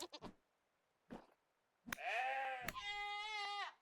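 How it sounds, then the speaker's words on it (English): Two male mountain goats in the video game Vintage Story bleat in long, wavering, nasal calls, one after another, loud and close, following a few short soft knocks and shuffles. "Mountain goats."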